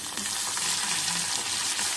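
Continuous crackling sizzle of dried red chillies, garlic, mustard seeds, cumin and curry leaves frying in hot oil, steady and close, with no voices.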